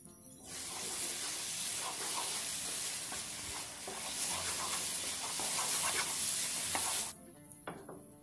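A milk Mysore pak mixture with cardamom powder is stirred in a hot pan, a steady scraping stir over a soft continuous sizzle for about seven seconds, then stopping near the end.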